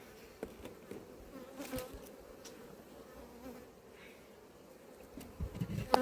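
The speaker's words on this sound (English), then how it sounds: "Quite a few bees in there and a little bit of honey." Honey bees buzzing around an open beehive in an apiary, a steady dense hum of many insects close by with a few louder passes near the end.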